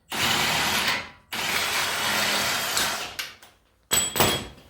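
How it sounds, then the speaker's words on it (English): Ratchet wrench loosening the front axle bolt on a Jeep FC, bursts of rapid mechanical clicking up close, two long runs then shorter spurts with brief pauses, no voices. "the first step to removing a front axle in a vehicle is to remove this bolt right here"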